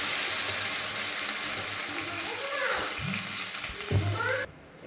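Water poured into a hot pan of Bengali potato curry (aloo chorchori) hisses and sizzles steadily, with bursts of bubbling and splashing near the end before the sound cuts off abruptly.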